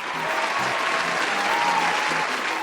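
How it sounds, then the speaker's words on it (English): Sustained applause from an audience fills the whole stretch as a dense, steady wash of clapping. It stays loud and even throughout, with only a faint hint of a voice underneath. "Give him a round of applause"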